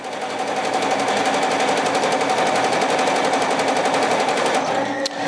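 An embroidery machine stitches out a design with a fast, rapid-fire mechanical clatter. It runs loud and steady for about five seconds, with a brief click near the end.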